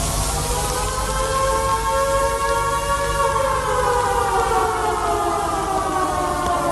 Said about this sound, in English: that's the COVID siren